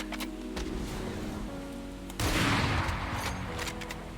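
Brimstone's Molly incendiary in Valorant landing and catching, a sudden loud crackling, hissing burst that keeps sizzling like heavy rain, amid game sounds and faint gunfire.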